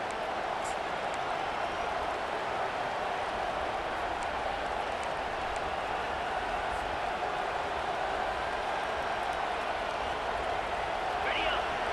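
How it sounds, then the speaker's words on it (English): Roaring crowd at a college football stadium during a Virginia Tech versus USC video game, a steady, dense wall of cheering noise with an announcer's commentary heard over it. "This crowd knows when to bring it."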